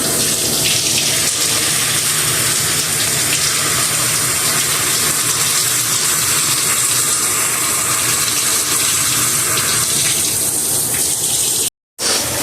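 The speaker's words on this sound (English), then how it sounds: "And then you can wet your hair." Water runs steadily from a tap to wet hair during a wash, a continuous close splashing flow that lasts throughout with a brief cut near the end.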